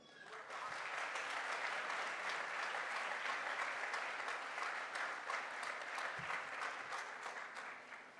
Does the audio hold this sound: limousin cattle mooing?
no